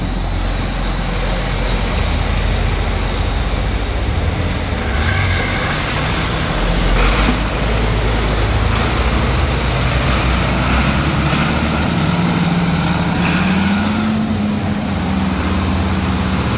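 A John Deere 8640 tractor with a 50 series engine runs steadily and loudly up close, its low diesel drone continuous throughout with slight shifts in tone, no voices present.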